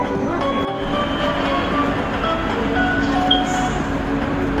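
An LRT Jabodebek light rail train stops at a station platform with screen doors, giving a loud steady rolling rumble with faint wheel squeal and a brief high screech near the end.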